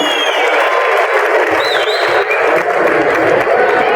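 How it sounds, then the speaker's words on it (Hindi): A crowd at the Delhi Games 2025 opening ceremony breaks into loud, sustained applause with a few cheers, a dense, steady clapping that fills the whole stretch. "तो तालियां जोरदार।"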